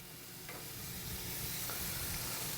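Shrimp kabobs sizzling on a hot grill, a loud, steady frying hiss that builds slightly, with a couple of faint clicks, close and without talk.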